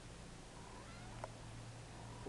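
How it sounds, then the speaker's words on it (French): A single short kitten meow, faint and brief, over a steady low background hum. "C'est les chats."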